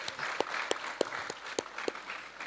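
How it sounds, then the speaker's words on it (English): An audience applauds youth parliament candidates at a community program. The clapping is scattered and moderately close, with distinct sharp claps spaced at a steady rhythm over a soft, continuous background wash. "Can we give them a round of applause?"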